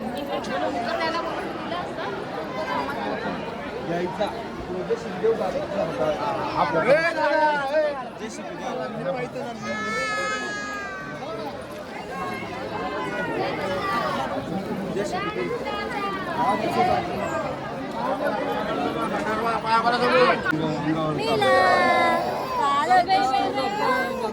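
Dense crowd chatter at Jejuri temple on a busy Sunday, many overlapping voices in a steady murmur that fills the space, with nearer speakers cutting in now and then.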